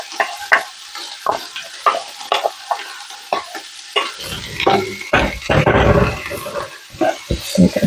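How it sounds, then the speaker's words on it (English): Onions and red peppers hitting hot grease in a pot of chili, bursting into a loud, steady sizzle broken by repeated scraping stirs, with a voice briefly present. "And now we add our onions and peppers and cook them."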